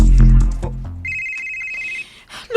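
A cellphone rings with an incoming call in a drama scene, giving a steady electronic tone for about a second after voices and a loud thump fade.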